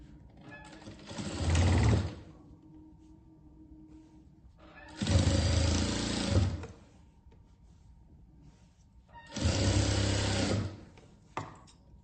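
Three bursts of a sewing machine stitching blue fabric for a quilt, each run lasting about a second and a half with a steady mechanical whir, separated by quiet pauses and a faint click at the end.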